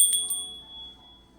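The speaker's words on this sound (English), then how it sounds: "let me ring this bell," A small bell rings with a bright metallic strike and a second quick ding, then a clear, high tone that lingers and slowly fades in a quiet room.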